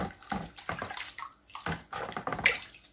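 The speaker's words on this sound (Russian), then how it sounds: "Сейчас я ополосну." Water splashing and running as an antique object is rinsed, with irregular surging bursts of gushing and sloshing, close and fairly loud, no talking.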